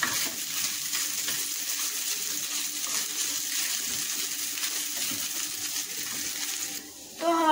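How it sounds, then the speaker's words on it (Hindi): Chicken cooks in a pan with a steady, close hiss of sizzling that holds evenly, followed by a brief clatter near the end. "तो हमारा चिकन कुक हो गया है."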